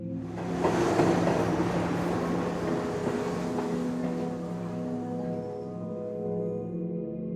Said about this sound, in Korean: 지하철이 내 눈앞을 쌩하고 지나가다가 점차 속력을